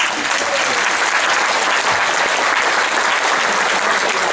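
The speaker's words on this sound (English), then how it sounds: "I need a big round of applause to inspire me." A cruise ship audience applauds a piano showman's finale, loud dense clapping sustained evenly throughout with no voices over it.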